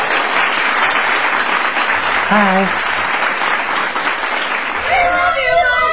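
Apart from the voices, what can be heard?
studio audience applause for a guest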